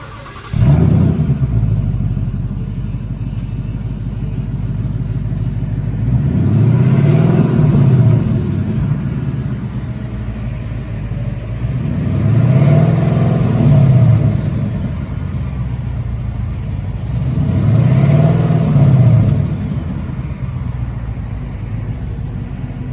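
A 2018 Mustang GT with its original mufflers and resonator idles with a deep rumble, then revs three times in evenly spaced swells that rise and fall, loud and close, with no talking.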